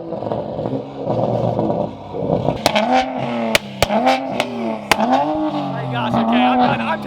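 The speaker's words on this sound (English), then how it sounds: "Do donuts, Chris." A widebody Toyota Supra does donuts, its engine revving in rising and falling surges with sharp bursts and tire squeal, close and loud, while people shout and talk over it.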